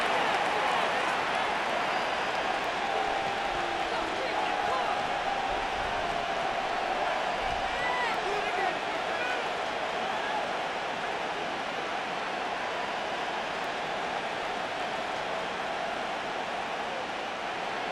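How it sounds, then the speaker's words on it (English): Constant roar of a stadium crowd in Madden NFL during a Tennessee Titans versus Los Angeles Rams football game, a dense unbroken wash of cheering that stays loud throughout with no clear talk on top. "The crowd making their presence felt"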